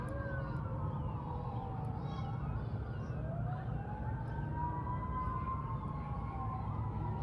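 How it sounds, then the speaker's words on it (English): Several emergency sirens wail continuously, their pitches rising and falling and overlapping against a steady rumble of traffic, with no talking. "And we're just listening to some sirens."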